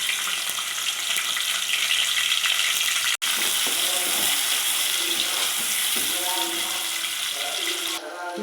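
Spices sizzle and fry steadily in hot oil for an Andhra-style chicken curry, a loud continuous hiss with stirring scrapes and a brief break partway through, no voices.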